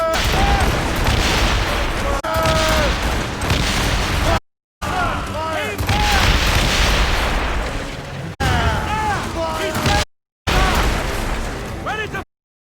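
A volley of musket gunfire erupts on command in an ambush scene, loud booming bursts rolling continuously through several segments broken by brief silent gaps, with shouting voices mixed in.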